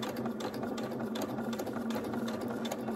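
A sewing machine stitches a handbag with a steady, fast mechanical whir and regular needle clatter, fairly quiet and even throughout, with no talking.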